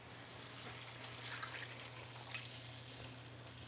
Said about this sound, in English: finish it halfway up with water